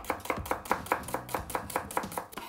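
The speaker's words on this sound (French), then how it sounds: "je vais émincer mes échalotes. Donc, j'essaye de faire ça finement." A knife finely chopping shallots on a cutting board, producing quick, evenly spaced taps close up, about four per second, steady and without any talk.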